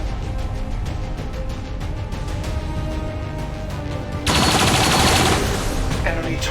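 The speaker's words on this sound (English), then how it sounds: "Incoming fire." Rapid bursts of gunfire crackle in XCOM 2 combat, a dense fusillade that suddenly swells loud midway and then trails off, over a low ambient game backdrop.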